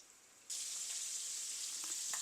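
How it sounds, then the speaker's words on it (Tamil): Prawns fry in a pan for a pineapple prawn devel, with a steady, fairly loud sizzle that bursts in after a brief quiet start and carries on with small crackles and pops. "இந்த இறால் வந்து ஃப்ரை ஆகுது"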